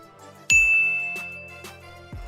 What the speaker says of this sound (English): that bell was just a reminder